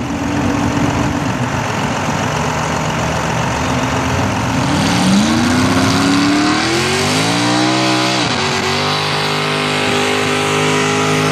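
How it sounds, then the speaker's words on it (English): An antique tractor engine at a tractor pull revs loudly and continuously, its pitch climbing steadily over several seconds, dropping briefly, then holding a high strained roar. "Like antique tractor pulling."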